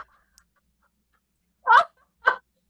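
A person sneezes, two short, sharp bursts about half a second apart, close and fairly loud in an otherwise quiet room.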